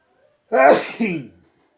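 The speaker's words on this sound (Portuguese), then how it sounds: "eu vou espirrar, desculpem" A single sharp sneeze, close and fairly loud, in two quick bursts, with silence before and after.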